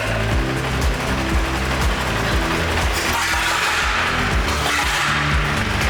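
Engine of a 1911 Mercer Raceabout brass era car running loud and steady after being started by hand crank, with a continuous rough mechanical roar and no voices.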